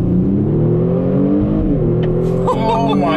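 2020 Kia Stinger GT Limited 20th Anniversary launching under launch control, a loud close engine note climbing steadily in pitch as it accelerates hard, with voices cutting in near the end.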